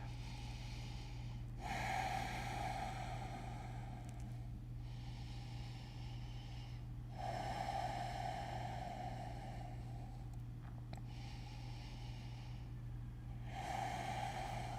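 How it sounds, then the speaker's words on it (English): Slow, deep yoga breaths during a seated split stretch, with long drawn inhales and exhales in a steady cycle, close and fairly quiet over a constant low hum. "3 deep breaths."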